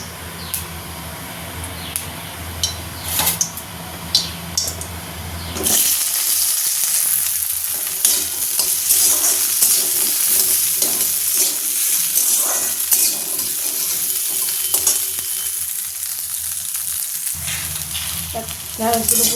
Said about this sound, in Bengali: এরপরে আমি এই যে ঢ্যাঁড়স আর আলুগুলোকে নাড়াচাড়া করে নেবো একদম লাল লাল করে